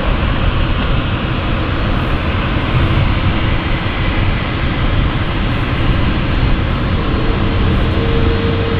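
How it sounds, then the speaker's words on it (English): Jet aircraft engines idle and spool steadily at London City Airport as three planes prepare to head out for departure, a continuous loud broadband roar with no break and no talking. "Three aircraft, looks like they're going to be heading out for departure."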